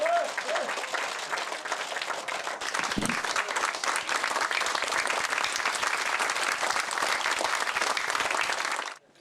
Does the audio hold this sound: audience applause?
yes